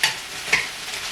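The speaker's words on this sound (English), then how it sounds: "I'm going to saute it for a little bit longer" Corn, zucchini, squash and red bell pepper sizzle in a hot pan, a close, steady frying hiss with a couple of soft stirring scrapes, no voices.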